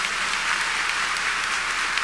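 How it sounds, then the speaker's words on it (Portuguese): Church congregation applauding during a worship service, a dense, steady wash of many hands clapping together, loud and continuous throughout. "Uma salva de palmas bem forte para Jesus"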